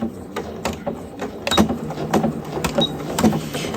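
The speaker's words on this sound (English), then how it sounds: "I'm going to back stitch here." A sewing machine back-stitches through a quilt being made into a placemat: a close mechanical whirr with rapid rhythmic ticking of the needle mechanism, steady throughout, with no speech.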